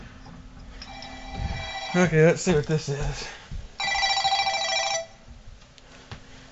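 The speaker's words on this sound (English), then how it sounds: "I hear a phone ringing." A telephone rings in a home during a shower faucet repair, heard as a bright trilling ring in bursts, with someone talking close by and briefly over it.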